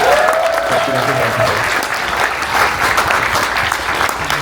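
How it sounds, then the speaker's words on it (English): A conference audience claps in sustained applause at a panel on Ukraine's strategic assets, dense and loud throughout, with a voice briefly audible at the start. "Let's have a round of applause."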